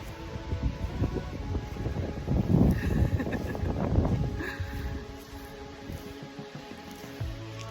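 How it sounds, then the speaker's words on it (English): Wind blowing outdoors on a hike, a steady broadband rush with louder gusts buffeting the microphone in the middle, then easing to a softer background. "It is windy out here."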